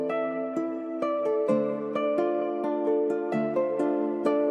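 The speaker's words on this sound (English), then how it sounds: "lastly I just used this Memory Man preset in Echo Boy just to give the guitar some delay" A guitar sample processed with RC20, reverb, EQ and Echo Boy Memory Man delay plays a plucked melodic figure, its notes smeared and lingering with repeats and a warm, washed sustain, alone.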